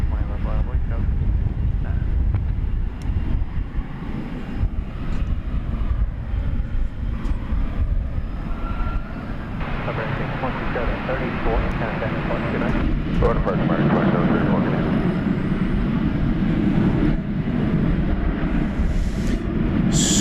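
An aircraft at DFW International Airport gives off a continuous, loud engine roar that swells and brightens in the second half, with a voice talking over it.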